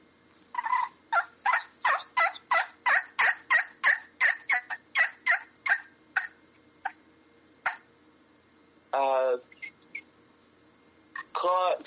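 Wild turkey calling in a fast, evenly spaced series of about fifteen sharp, loud notes, followed after a pause by a few separate calls.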